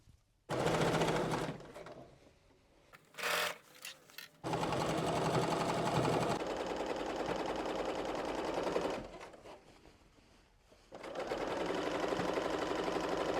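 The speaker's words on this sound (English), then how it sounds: "now it's time to sew this baby together" A sewing machine stitches pieces of a dress together in loud, rapid bursts of running, separated by short pauses, with quick stop-start taps between the longer runs.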